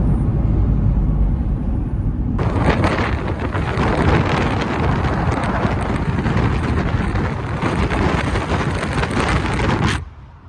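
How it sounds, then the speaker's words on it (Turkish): Strong outdoor wind buffets the microphone in a loud, roaring rumble that starts partway in, holds steady for several seconds, then cuts off near the end, with no talk. "Sarnut'ta dışarıda çok rüzgar var ya."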